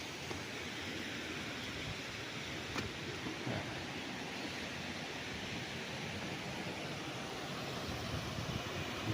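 A river rushes steadily where its water falls, forming foam on the surface, beside a rural farm lot in Nagcarlan, Laguna. A dense, even roar of flowing water carries on without a break.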